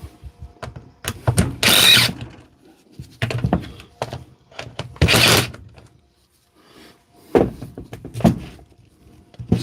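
During a repair, a power tool tightening a part whirs in short bursts, separated by gaps and broken up by clunks and knocks of handling.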